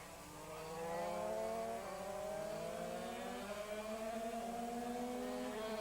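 Yamaha TZR 250 and Suzuki RGV 250 two-stroke racing motorcycles at Sentul, Indonesia, howl past together at high revs, several engines layered in a continuous, fairly distant whine with rising and shifting pitch.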